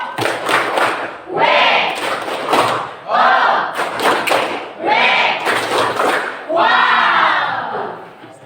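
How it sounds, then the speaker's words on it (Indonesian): Schoolchildren in a classroom applaud a classmate in rhythmic bursts, loud claps and thumps mixed with chanted group shouts, repeating about five times with short pauses between. "Kita beri aplaus dulu untuk teman kita"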